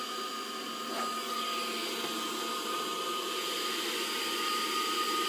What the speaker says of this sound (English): So let's just turn on the pack, and it powers the helmet very nicely.